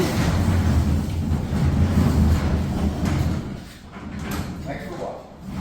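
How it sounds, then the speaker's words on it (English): A newly installed garage door on a new home's double garage rolls along its track with a steady, loud rumble that eases off partway through, while a voice talks over it. "Now the door is in operating."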